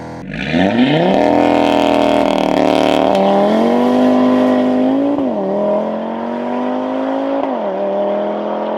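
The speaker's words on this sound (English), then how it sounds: "To put this in launch control, gearbox has got to be in S, dynamic mode, traction control off, left foot firmly down on the brake, engage launch control." Modified Audi RS3 hatchback doing a launch-control start, engine held at high revs, then launching hard with loud, close acceleration and rising pitch through several quick gear changes, no talk.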